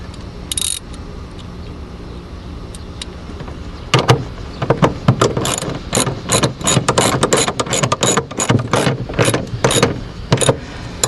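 A ratchet tightens a bolt on a large RV solar cable connection, giving a quick burst of clicks at first and then steady, close, loud ratcheting strokes from about four seconds on, with no talking.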